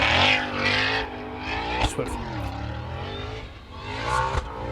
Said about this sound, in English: You have to excuse the Mustang, it's trying to leave a Cars and Coffee event.